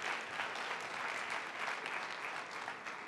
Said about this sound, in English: I want you to give those applause, those folks applause who are remaining standing.